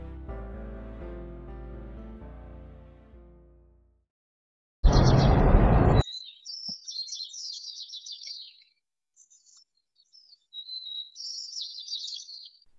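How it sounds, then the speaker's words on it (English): Birdsong isolated from a street recording with traffic removed: after a stretch of music and a short burst of noise, clear chirps and tweets come through in bright, separated phrases. "and all we got was the bird's sound"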